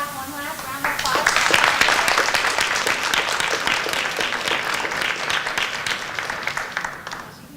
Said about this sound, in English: can we give this class one last round of applause?